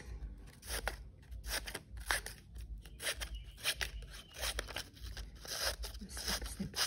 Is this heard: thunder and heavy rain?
no